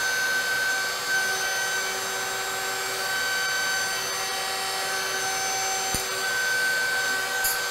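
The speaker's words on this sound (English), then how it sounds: "when I'm using the hand vacuum" A hand vacuum runs steadily at close range cleaning up MDF dust beside a CNC router, a constant whining drone with a brief knock partway through and no talking.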